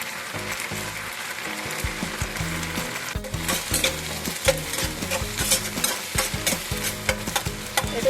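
Tempering spices with turmeric and salt fry in hot oil, a steady close sizzle broken by rhythmic scraping strokes of a spoon stirring the pan.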